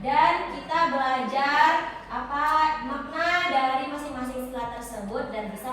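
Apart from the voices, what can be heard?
None of the usual background noises is heard.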